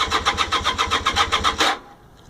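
A 1980 Honda CM400T motorcycle engine cranking after a carburetor cleaning, with a rapid regular chug of the starter turning over for under two seconds before it cuts off into quiet, loud and close.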